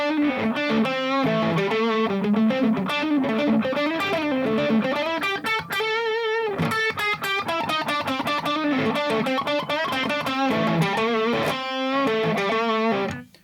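Distorted electric guitar plays continuous, fast minor pentatonic riffs with passing tones, loud and unaccompanied, with brief pauses between phrases.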